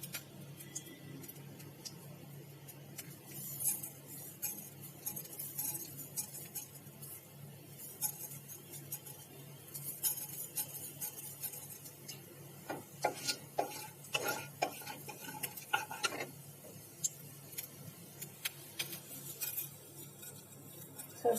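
Mustard seeds dropped into melted ghee in a pan, giving faint scattered crackles and light metallic clinks of utensils, quiet and irregular over a low kitchen hum.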